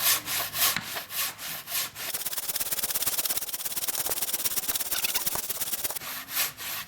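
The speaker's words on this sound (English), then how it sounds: "What we'll do is we'll cut right through it and give you a comparison with the saw cut." A Silky Natanoko carpentry saw cuts through timber that is wet inside, starting with a few slow, separate strokes and then settling into fast, even back-and-forth rasping before the slower strokes return.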